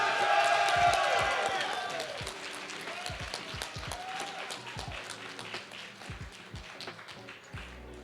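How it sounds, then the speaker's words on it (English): An audience at the Bushiroad Championship Series 2022 World Finals applauds the Cardfight!! Vanguard champion: loud clapping and cheering with whoops that gradually fade to scattered claps and crowd noise, with voices and a few heavy thumps underneath. "Let's hear another round of applause,"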